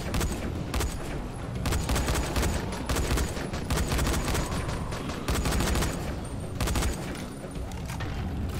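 Dense assault rifle fire in the zombie game Dying Light: loud, sustained bursts of rapid shots with short breaks between volleys, close and continuous for several seconds with no talking.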